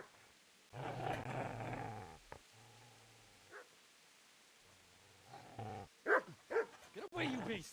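A dog in the video game Kingdom Come Deliverance 2 growls and then barks in short sharp bursts, moderately close, with a voice shouting around it.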